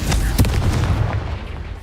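Fire-spell blast in the video game Hogwarts Legacy, a loud booming burst at the start that rolls into a dense, rumbling low roar and tails off over about two seconds.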